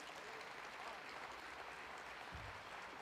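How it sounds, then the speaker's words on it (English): Audience applause for a priest at a county State of the County gathering, a continuous rain of many hands clapping at a steady level, somewhat distant, with a low thump partway through. "give him a round of applause."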